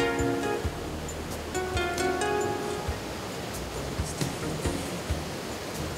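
The wild, cold Ljutica river in the Prokletije Mountains rushes over rapids in a dense, continuous roar, with faint scattered clicks and knocks standing out over the steady water noise.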